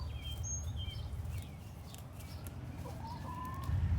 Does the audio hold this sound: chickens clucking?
yes